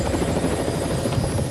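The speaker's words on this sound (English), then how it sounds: "Get into the helicopter and just wait, Annie." A helicopter flies over the Dorset coast on a bright day, its rotor and engine making a loud, steady, close whir that fills the whole sound with no voices.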